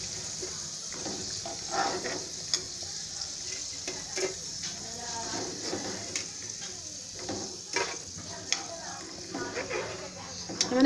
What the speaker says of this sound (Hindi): मैंने फ्लेम को लो रखा है क्योंकि हमारा तेल बहुत ज़्यादा गर्म हो गया है। अब इसमें और पकौड़ी ऐड कर देंगे।